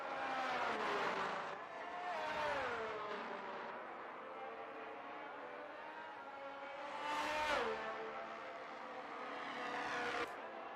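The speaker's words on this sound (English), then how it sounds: "A massive error as Chris retires from the session. Losing the rear end through the second turn, causing a safety car as well." A Formula 1 car in the F1 22 video game at the Brazil round loses its rear end through the second turn and skids out, engine whining and pitching up and down with tyre squeal over about ten seconds.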